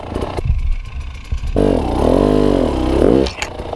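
Dirt bike engine snapping to full throttle on a trail, a loud close rev that rises and holds for a couple of seconds after some clattering idle, then drops off abruptly.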